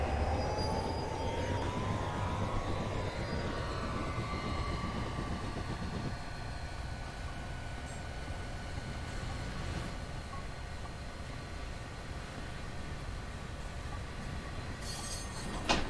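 A simulated freight train on Sherman Hill in Train Simulator 2019 powers up and departs, with a steady low rumble of engines and rolling wheels and faint metallic squeals, loud and continuous throughout.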